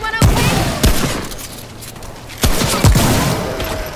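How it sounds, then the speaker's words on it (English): Four heavy shotgun blasts go off in Remnant From the Ashes, loud and close, spaced irregularly with a booming decay after each shot, no speech. "This shotgun packs a punch."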